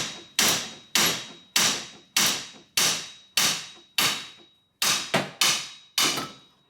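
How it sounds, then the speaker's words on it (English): Repeated hammer blows driving a bolt out of a Ford Focus strut at the steering knuckle: about eleven sharp, loud metallic strikes at a steady pace, with a quick double hit near the end, no talking. "Once I keep tapping it, it should come out."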